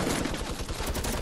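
A video-game minigun fires a dense, unbroken stream of rapid shots, loud and close throughout the short burst.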